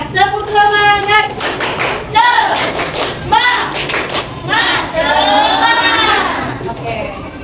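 A classroom group claps in a rhythmic cheer pattern, loud and close, with bursts of sharp claps broken by children's voices and chanting between the rounds.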